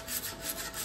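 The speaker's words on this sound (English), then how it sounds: "sanding it off just a little bit before we colour" Steady, soft rubbing rasp of sandpaper on a hard sculpture surface in an art class, continuous with gentle back-and-forth swells, close by and fairly quiet.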